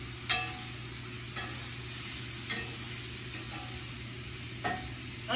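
Meat sizzles in a hot pan while cooking for lasagna, a constant loud frying hiss broken by a few sharp scraping clicks of stirring, with no one speaking.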